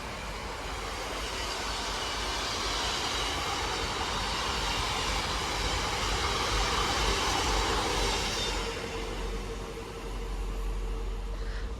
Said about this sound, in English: Next up, we got a Freightliner 66. That's 66421. That's 621, my mistake,